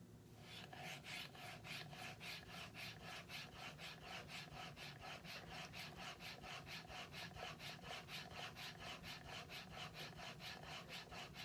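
A Veritas spokeshave iron is honed on a sharpening stone with steady back-and-forth rubbing strokes, close and quiet, in an even rhythm of about two strokes per second with no voices.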